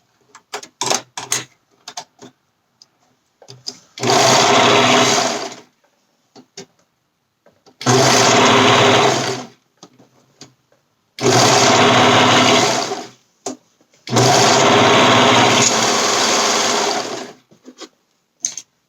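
A serger overlock sewing machine stitching fabric for a romper, running in four loud close bursts of fast whirring, each a few seconds long, with quiet clicks and fabric handling between them.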